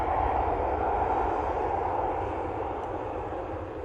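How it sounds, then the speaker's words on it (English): A Jet2 Boeing 737 roars on takeoff from Manchester Airport, a steady broadband engine rumble heard at moderate distance, fading slightly as it climbs away, with no talk. "Jet 2, 737, now blasting out of Manchester."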